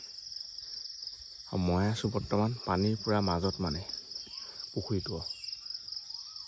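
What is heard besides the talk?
crickets and birds calling at night on a pond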